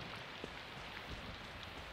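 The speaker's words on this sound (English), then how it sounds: "I don't think anyone's gonna be outside because it's raining" Steady rain in the video game Persona 4 Golden, a soft, continuous patter on surfaces that is even and fairly quiet throughout with no voices over it.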